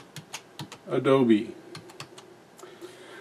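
Clicky keystrokes on a computer keyboard come in irregular taps, close and fairly crisp, while a voice speaks briefly in the middle of the typing during editing in Adobe Premiere Elements 13.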